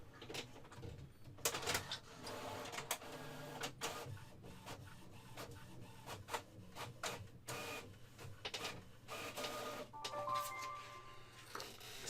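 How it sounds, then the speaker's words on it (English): An HP 5742 inkjet printer runs in the background, with mechanical whirring, rhythmic clicks and clunks of the print head and paper feed, faint and steady for the whole stretch. "And you can possibly hear the printer going in the background."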